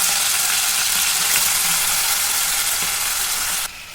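Potatoes frying in hot oil with curry leaves give a steady, close, bright sizzle throughout, with occasional scraping clicks, ending in a slightly quieter hiss; no talking.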